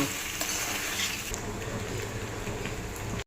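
Cooked macaroni being mixed into chicken masala in a hot pan, with a dense, continuous sizzle and frying hiss under soft stirring scrapes, close up and steady until it cuts off.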